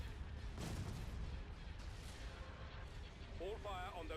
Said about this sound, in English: Hold fire on those ion cannons.